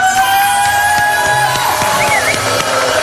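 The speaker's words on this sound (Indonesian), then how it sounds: "Kenapa pada tepuk tangan?" A television studio audience claps and cheers in a dense, loud wash of applause, with shouts and whoops mixed in.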